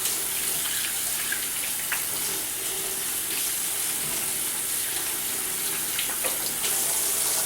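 Water runs steadily from a kitchen tap while hands are rinsed under it, a close, constant hiss and splash with small shifts as the hands move through the stream.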